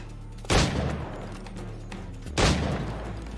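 Enemy gunfire in Assassin's Creed IV Black Flag near ancient Mayan ruins: two loud, sharp gunshot blasts about two seconds apart, each trailing off into a rumbling echo.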